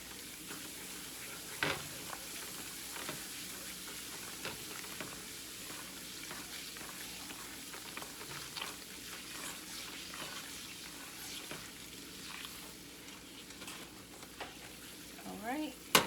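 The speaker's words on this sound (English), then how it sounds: "you want to make sure you continue to stir constantly." Flour is stirred continuously as it fries in a pan for a Southern smothered oxtail roux, giving a soft, steady sizzle with faint scraping, quiet and close, with a brief knock near the start and another near the end.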